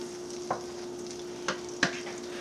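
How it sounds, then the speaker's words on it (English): Butter melting in a pan on high heat gives a soft, steady sizzle, broken by three brief scraping clicks as it is stirred. "melt some butter. All right, just gonna stir it just to get it melted faster."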